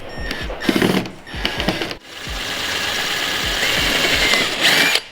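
A ratchet drives bolts while carbon fiber side skirts go onto an E92 BMW M3: quick bursts of close, loud metallic clicking, then a steadier mechanical whirring rush that continues to the end.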